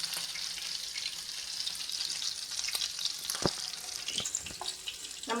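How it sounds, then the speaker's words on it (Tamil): Appam batter, a sweet batter for a Krishna Jayanthi festival snack, fries in hot oil with a steady, close sizzle and a few brief stirring clinks, with no voices. "நல்லா கிளறிட்டு இந்த அப்பத்தை கீழே ஊற்றிடலாம்"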